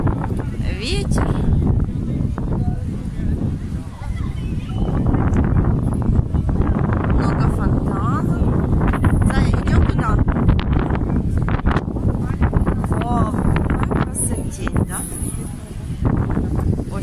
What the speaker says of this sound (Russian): Ветер.